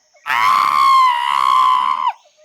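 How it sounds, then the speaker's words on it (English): A storybook character screams in a long, loud, wavering cry lasting about two seconds, heard alone and close. "there's Jim screaming"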